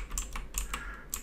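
A few quick keystrokes are tapped on a computer keyboard, close up, as crisp separate clicks spread over about a second, with no other sound.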